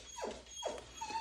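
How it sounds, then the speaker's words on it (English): A pet dog named Dexter whimpers indoors, three short rising-and-falling whines in quick succession, faint and close, with no talking. "I think that's just my dog."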